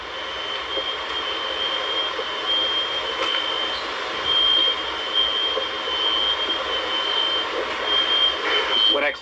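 Disconnected smoke alarms beeping in hurricane-damaged Cedar Key, Florida, a thin high repeating electronic tone over a broad rumble of engines and ambient noise.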